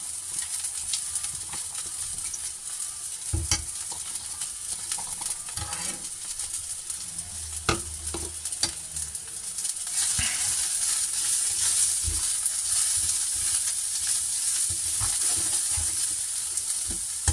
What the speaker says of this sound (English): And keep stir frying them until the onions become softer.